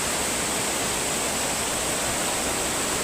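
Malora waterfall in Kerala roars as a dense, constant wash of falling water, loud and close, with no break or other sound standing out.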